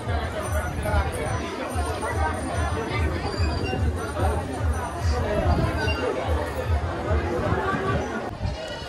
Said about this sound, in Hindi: देखियौ भीड़ कते छै यहाँ